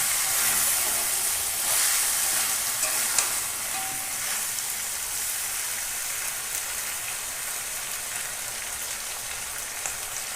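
Chicken pieces sauté in oil in a pan for a Sunday lunch curry, giving a continuous, even sizzle with soft stirring scrapes and occasional pops throughout.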